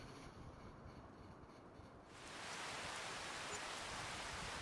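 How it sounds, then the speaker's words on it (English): Rain falling: a quiet, thinner hiss that swells about halfway through into a steady, dense patter, soft and constant, with no voices. "Well, we're getting rain"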